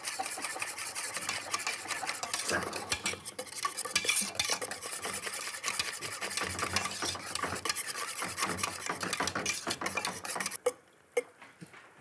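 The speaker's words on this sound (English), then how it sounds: "you get all the lumps whisked out of here" Flour-based sauce for Danish tarteletter whisked briskly in a pot, producing a continuous close scraping, rasping rhythm of the whisk against the metal, with a short pause and a few final taps near the end.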